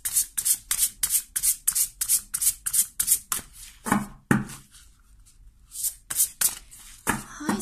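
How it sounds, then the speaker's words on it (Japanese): Playing cards handled and shuffled for a tarot-style card reading, a rapid run of crisp riffling bursts, a short pause, then more shuffling, close and clear with no talking. "カードをね、3枚取っていきますね。"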